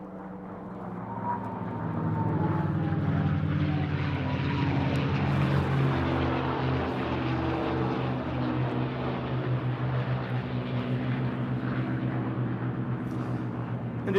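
A P-51 Mustang propeller fighter passes at an air show, its engine drone rising steadily from quiet and holding a loud, sustained rumble with shifting tone across the pass.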